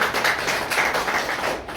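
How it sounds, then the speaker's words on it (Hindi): Audience clapping at a multi-level marketing seminar, a brisk, dense patter of many hands that stays fairly loud and close, then thins slightly toward the end, with no talking over it. "एक बार इस RCM के लिए जोरदार तालियां बजा दीजिए।"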